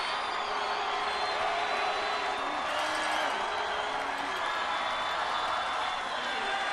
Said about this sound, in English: The crowd comes alive here at Hawkins Stadium.